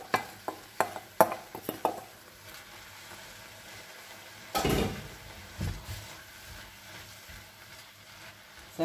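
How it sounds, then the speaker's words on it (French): Cauliflower poured into a hot pan for Mexican-style cauliflower rice: a burst of sharp clattering pieces hitting the pan, then a loud rush and steady sizzle of frying with occasional stirring scrapes. "Je vais y verser tout mon chou-fleur."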